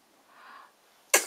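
A single sharp sneeze bursts out near the end, preceded by a soft breathy intake, close and loud in an otherwise quiet room.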